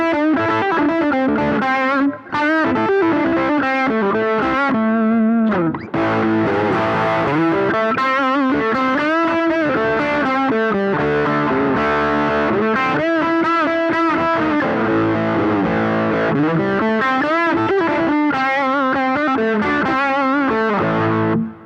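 Electric guitar runs through a JHS Morning Glory overdrive pedal at high gain, a dense, driven stream of riffs and sustained notes, loud and continuous, with only brief gaps.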